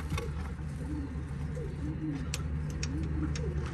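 Several pigeons coo softly and repeatedly on a rooftop loft over a steady low background hum, their rolling calls overlapping.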